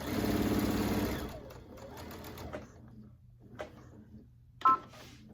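Sewing machine stitching a quilt top, running in a fast, close, mechanical whir for about a second before stopping, followed by a few quiet clicks and a brief sharp tap near the end.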